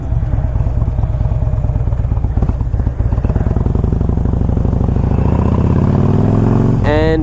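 A 2007 Harley-Davidson FLHT with a 96 cubic inch engine and six-speed gearbox idles close by with a loud, lumpy, steady beat, then revs up toward the end.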